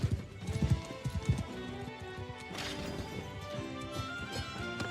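Horses clip-clop in Warhammer: The Old World, a quick run of hoof thuds that comes up loud at first and then settles into a steadier, busier layer of game noise.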